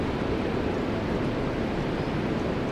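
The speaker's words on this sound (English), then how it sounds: "You can hear the sound of the waves" Ocean waves roll steadily onto a seashore in a continuous, even wash of surf with no distinct breaks, filling the scene at a constant moderate level.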